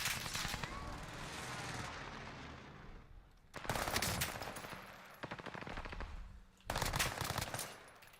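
Rapid machine gun fire in a shooter video game, dense rattling bursts that stop and start in several sustained volleys, fairly faint, with a voice murmuring underneath.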